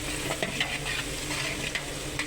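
Okra is frying in hot oil with browned onions and garlic in a pan. A dense, continuous sizzle is broken by light stirring clatters and scrapes, close and moderately loud, with no one talking.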